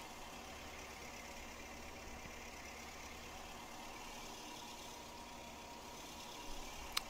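A modded tractor engine idles in Farming Simulator 19, a faint, steady low hum that holds unchanged throughout, with a brief click near the end.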